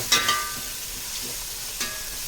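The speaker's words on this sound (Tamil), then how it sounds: "இந்த அளவுக்கு நல்லா சுருண்டு வதங்கணும் வெங்காயம்." Onions sautéing for Tenkasi mutton biryani, a low steady sizzle with a few sharp stirring scrapes, two close together near the start and one later.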